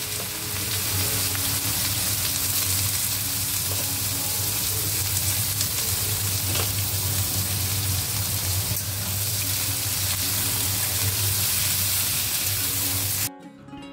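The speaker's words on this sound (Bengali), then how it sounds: "আর একদিকে উচ্ছে আলু ভাজাটা বসিয়ে দিয়েছি" Bitter gourd and potato frying in a pan on a home kitchen stove, a steady loud sizzle and crackle with a constant low hum beneath, continuous and close until it cuts off abruptly at the very end.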